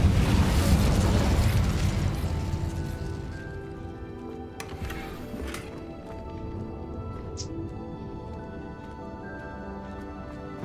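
An Incendio fire spell cast in Hogwarts Legacy: a loud, roaring burst of flame at the start that fades into softer crackling and game ambience, with a few brief bright pops later.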